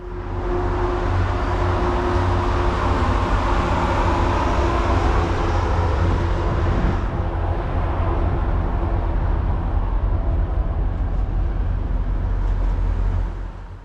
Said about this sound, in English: a Deadhead Waterbury train cruises over the Monroe Street Bridge